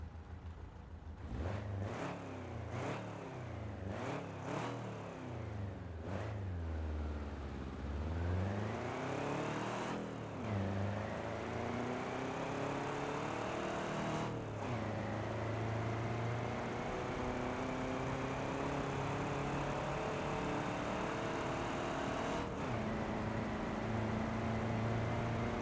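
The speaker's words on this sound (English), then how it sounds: "his car uses two Solex 40 carburetors with sports exhausts, so you have a little bit of more power to play with" Volkswagen Brasilia in BeamNG.drive with twin Solex 40 carburetors and sports exhausts, engine revving up and down in rising and falling sweeps, then settling into a steady drone with occasional gear changes, no voices.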